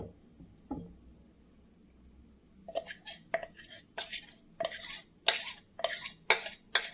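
Flour and eggs being whisked together in a bowl for a bakery-style cake, a run of quick, evenly spaced scraping strokes against the bowl following a quiet start with a faint steady hum behind.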